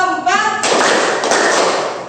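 Sixth-grade classroom group clap pattern: a brief voice opens, then a loud burst of many hands clapping together in sharp, close strikes.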